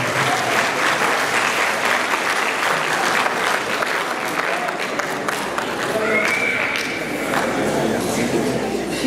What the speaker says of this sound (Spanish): Esta tarde le recibimos con las palmas correspondientes.